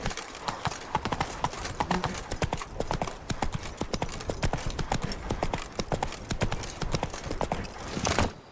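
A horse gallops at a steady fast clip-clop in The Witcher 3: Blood and Wine, hoofbeats loud and close throughout with a brief surge of sound near the end.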